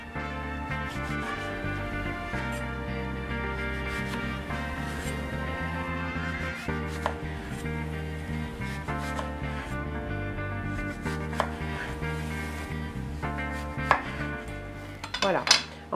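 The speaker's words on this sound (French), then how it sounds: "Tournez la pomme pour couper de l'autre côté." A knife cuts slices from an apple being prepared for tartlets, giving soft, intermittent cutting taps and scrapes against a board over a steady musical background.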